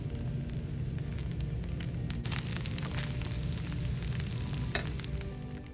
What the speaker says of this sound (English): At this point, I'm going to add some turmeric, as you can see. And I'll stir that together.